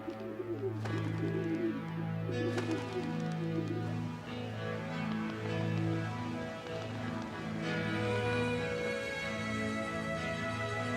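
City pigeons coo in a steady, repeating low rumble of overlapping calls, close by and continuous, with faint background chatter and clicks.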